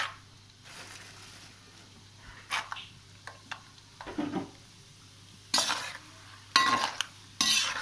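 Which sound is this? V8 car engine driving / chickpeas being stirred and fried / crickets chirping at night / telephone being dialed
chickpeas being stirred and fried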